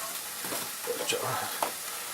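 Omelet mixture with black pepper and other spices is stirred in a frying pan, a soft, brief stretch of quiet sizzling with a few light utensil knocks and faint voice underneath.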